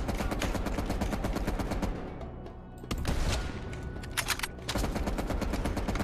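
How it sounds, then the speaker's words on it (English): Sustained machine gun fire in a Call of Duty Black Ops Cold War firefight, rapid loud bursts running almost nonstop with a brief lull before the shooting resumes close by. "that's a lot of fire coming our way"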